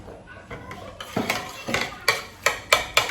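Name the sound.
stirring fresh pepper into egg in a bowl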